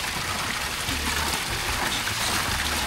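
Water gushing from a shallow irrigation pump, a continuous broad rushing roar, close and steady from start to finish with no voices.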